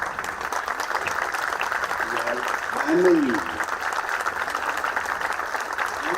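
Graduates at a CEPT University Faculty of Design convocation give a sustained round of crowd applause, with a speaker's voice talking over the clapping and a brief ringing bell tone near the middle.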